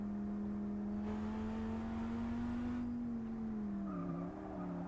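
Chryslus Rocket 2069 car lapping a track in Forza 6, a steady engine drone with a strong humming tone that rises slightly then drops as it eases into a corner, with faint tire noise and no talking.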